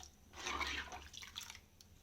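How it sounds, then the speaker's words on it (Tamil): Pisini rice porridge comes to a boil in a pot, giving faint, soft bubbling and dripping gurgles in a short, quiet burst. "இப்போ கொதி வருது பாருங்கள்"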